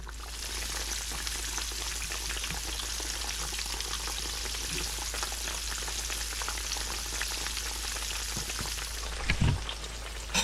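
Slices of yellow squash fry in a full pan of oil, a dense, steady crackling sizzle that holds evenly for the whole stretch, with a brief clatter of handling near the end.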